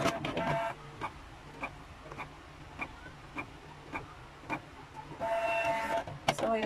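Canon MP237 inkjet printer running a nozzle check, with a whirring mechanical burst, then a series of regular soft clicks and knocks as the carriage moves, and another louder whir near the end.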